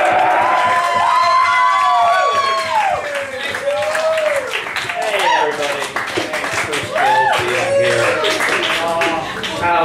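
At a Richmond cafe comedy night, an audience claps and cheers while someone speaks with a varying pitch over the crowd, the clapping continuous and the voice prominent.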